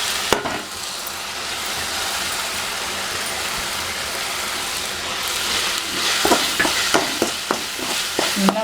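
Masala filling of turmeric, chili and garam masala sautéing in a pan, a steady broad sizzle with scraping stir strokes and sharp clinks growing more frequent toward the end, close and without talk.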